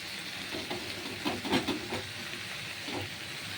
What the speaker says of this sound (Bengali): এবার কড়াতে বড়া ভেজে নেব